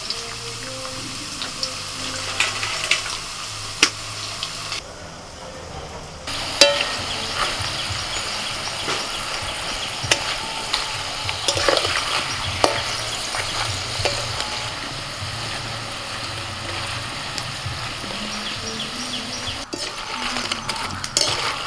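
Homemade potato chips sizzle and crackle steadily as they fry in hot oil, with occasional stirring clinks of a utensil against the pan throughout.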